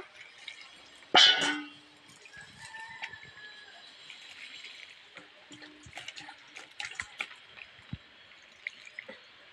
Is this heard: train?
no